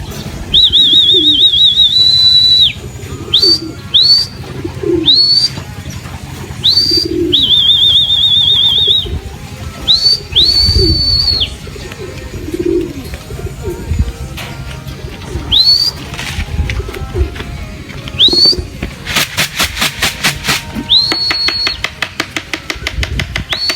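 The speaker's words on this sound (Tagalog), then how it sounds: "Ito mga kalapatids, ayan, nasa taas." Racing pigeons flapping their wings in repeated bursts overhead, with soft coos in between and a rapid fluttering rush toward the end, loud and close with no talking.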